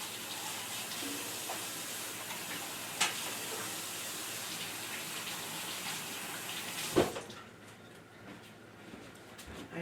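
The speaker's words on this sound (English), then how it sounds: "So I'm going to go ahead and I am going to wash my hands." Water runs steadily from a kitchen sink tap while hands are washed, a continuous close hiss that cuts off sharply near the end, leaving quieter room sound.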